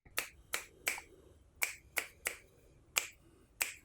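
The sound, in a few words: hand clapping to trigger keyboard lighting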